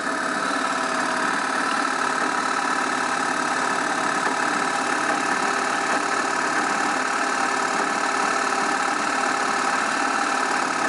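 A permanent magnet brushless DC motor runs under load near 1000 to 1100 RPM with a steady, loud tonal whine and hum, unbroken throughout.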